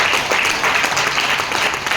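An audience claps for a product presentation, giving dense, steady applause that fills the whole stretch at an even, fairly loud level.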